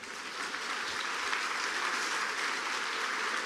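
A church congregation claps steadily during a sermon, dense applause sustained and even throughout with no voices above it.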